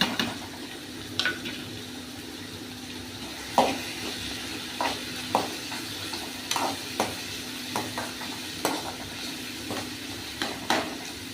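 Crushed garlic goes into a pan with small onions for a Tamil fish curry, sizzling softly under a steady hiss while a spoon scrapes and stirs in regular sharp clinks.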